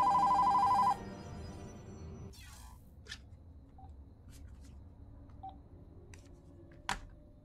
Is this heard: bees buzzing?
no